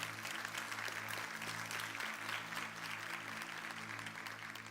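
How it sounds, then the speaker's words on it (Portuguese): Audience applause honoring a father standing in the crowd at a Portuguese-language motivational talk, a dense, steady wash of clapping sustained throughout with a low hum running underneath. "Não, faça aplauso do meu pai."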